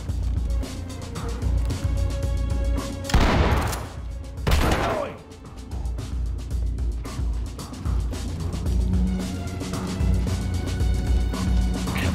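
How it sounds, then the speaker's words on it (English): Shotgun fire from the tactical shooter game Ready Or Not during a car dealership room clearing, with loud blasts amid continuous background game noise and hum. "Deploy shotgun and clear."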